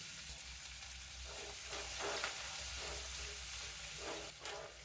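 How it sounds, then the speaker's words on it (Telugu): Finely chopped onion with pepper frying in a pan for shahi dal, a steady close sizzle with a few soft stirring pulses. "ఇప్పుడు సన్నగా తరిగి పెట్టుకున్న ఒక ఉల్లిపాయ ముక్కల్ని వేసేస్తున్నాను"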